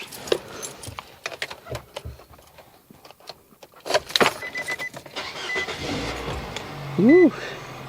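Inside a 2008 Nissan Versa, keys and cabin clicks come before the engine cranks and starts near the end with a brief rising whine, then settles into a steady idle rumble.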